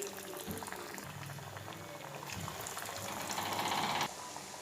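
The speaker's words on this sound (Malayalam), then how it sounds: "ഇനി നമുക്കിതിൽ എണ്ണയിലിട്ടിട്ട് വറുത്ത് പോരാം കേട്ടോ" Banana cutlets deep frying in hot oil over medium heat give a steady, close bubbling sizzle that swells and brightens partway through, then drops off abruptly near the end; no one speaks.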